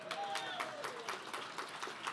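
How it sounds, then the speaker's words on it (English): Gala audience applause filling a room, steady and moderately loud clapping throughout, with a voice briefly rising over it near the start. "That is a very middle of the room applause."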